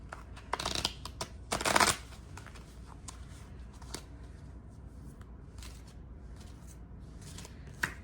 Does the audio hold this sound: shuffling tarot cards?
yes